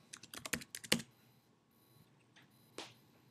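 Quick bursts of keyboard typing, a flurry of clicks and taps up close, then a pause and a single final keystroke.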